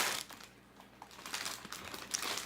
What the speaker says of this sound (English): I'm just gonna ruin the packaging here because I had no scissors around me